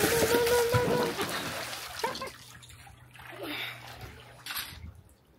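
Water splashing as a child plays in a small, shallow backyard swimming pool, with irregular splashes and trickles close by, mixed with voices talking and calling out.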